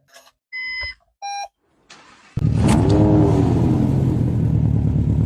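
A few electronic beeps, then a 495-horsepower rally car engine in a video game fires up and roars loudly, revving steadily and holding a rough, powerful drone to the end.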